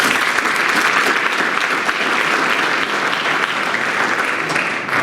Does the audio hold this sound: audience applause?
yes